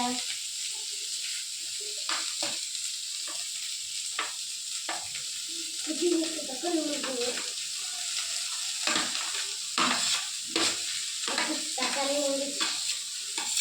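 Food sautéing in oil in a pan gives a constant soft sizzle, punctuated by repeated spatula scrapes and stirring clatter, with occasional faint voices.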